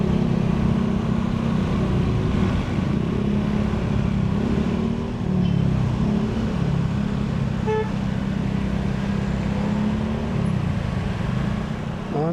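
A motorcycle engine drones steadily at close range during a ride, with road and traffic noise around it and a voice talking over it.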